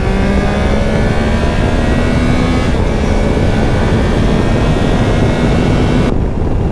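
A Triumph Tiger Sport 660 motorcycle accelerates hard toward top speed on an open road, its engine note climbing steadily under loud, constant wind roar heard from the rider's position.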